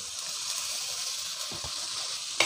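Green chillies, curry leaves, ginger and garlic sautéing in hot oil for a mackerel curry, a steady close sizzle with a few light stirring scrapes and a clink at the end.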